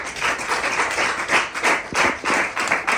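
A church congregation applauds, a dense, steady wash of many hands clapping close by with slight swells, without clear cheering voices.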